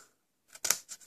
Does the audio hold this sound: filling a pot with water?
no